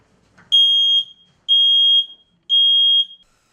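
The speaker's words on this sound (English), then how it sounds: "check your smoke detectors" Household smoke detector alarm sounding three loud, evenly spaced electronic beeps of about half a second each, clear and alone with brief silence between them.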